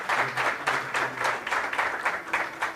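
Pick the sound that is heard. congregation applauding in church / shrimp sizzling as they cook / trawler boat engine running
congregation applauding in church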